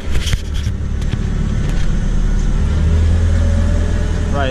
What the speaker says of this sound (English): Truck just pulled up